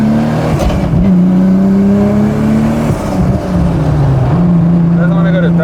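Nissan GT-R engine running steadily while the driver shifts gears, a loud, close, even drone whose pitch dips and resettles at each change.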